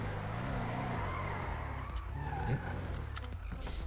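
A car in a video game skids and squeals its tires while the engine drones, with a sustained screech that shifts in pitch, then brief scrapes and knocks toward the end.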